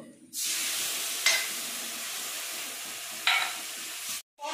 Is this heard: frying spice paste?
yes